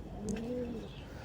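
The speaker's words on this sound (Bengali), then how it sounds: "এই হচ্ছে আমার কবুতরগুলো।" A single soft, low, rolling coo comes from a racing pigeon of the giribaz breed, heard close but quiet over a faint background hum.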